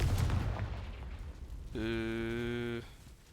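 The Confringo fire spell is cast in the Hogwarts Legacy video game: a sharp blast and rumble, followed by a bright sustained tonal ring lasting about a second before cutting off.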